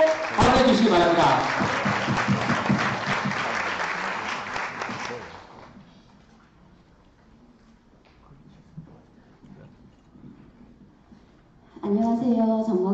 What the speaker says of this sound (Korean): 박수 받아주시기 바랍니다.